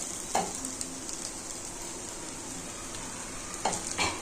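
Spring pasta is stirred gently in a sizzling pan, a steady close frying hiss with soft scraping touches of the spoon near the start and end.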